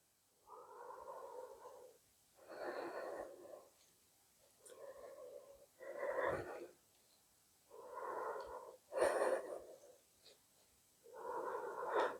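Slow, deep breathing during an exercise session, regular in-and-out breaths roughly every two seconds, soft and close with faint hiss and wheeze and no voices.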